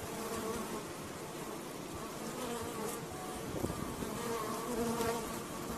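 Honeybees swarming around an open hive during a summer inspection, giving a dense, steady, close buzzing drone that holds throughout.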